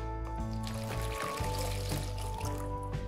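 Water pours into a bowl for poolish dough, a steady close trickle and splash running continuously beneath a constant low hum, with no talking.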